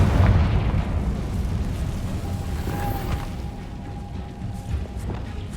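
A Confringo blasting spell goes off in Hogwarts Legacy, a deep rumbling boom that swells at the start and then rolls on in a long low tail, with a thin ringing tone drifting over the fading roar.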